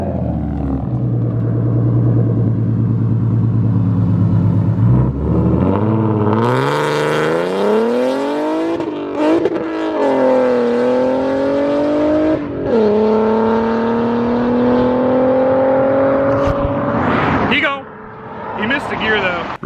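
A supercharged 3.7 V6 Mustang with a swapped M122 supercharger races hard, its loud, continuous engine note climbing in pitch through several gear changes with brief dips between pulls.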